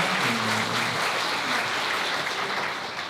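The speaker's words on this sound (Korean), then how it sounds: "힘찬 박수로 한번 축복해 주시겠습니까?" Wedding guests at a ceremony break into warm, steady applause that fills the hall, holding dense and even before easing slightly toward the end.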